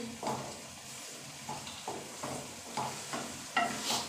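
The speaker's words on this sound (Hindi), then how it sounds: "आलू गाजर मटर अब मैं भूनने लगी हूँ इसको" Potatoes, carrots and peas being stir-fried in a pan, a steady soft sizzle broken by regular scraping strokes of the spatula about every half second, close and moderately quiet.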